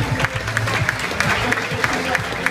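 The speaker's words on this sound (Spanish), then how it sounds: "den el aplauso como se lo merece" A crowd at an evening tribute to Dr. Juan Pablo Tamayo keeps clapping, a continuous rattle of hands with distinct louder claps standing out, while voices murmur beneath the applause.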